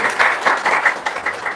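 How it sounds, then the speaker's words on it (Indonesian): Audience at an Islamic religious talk breaking into brief, lively applause, a dense burst of close hand claps with no speech over it. "Tepuk tangan dong."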